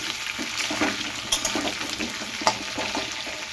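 Food sizzles and crackles in a hot pan, with a few sharp spatters and light stirring over a steady frying hiss.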